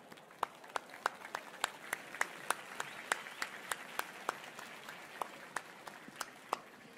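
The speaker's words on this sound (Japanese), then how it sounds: "パートナーにありがとうと言ってハイタッチして、あなたは賢いと言って自分に拍手。" Seminar audience clapping for themselves at a large financial seminar in Japan, a sparse scattering of distinct claps over a soft hall murmur, fairly quiet and steady for several seconds.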